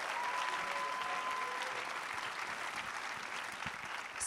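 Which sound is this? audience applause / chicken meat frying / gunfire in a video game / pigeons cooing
audience applause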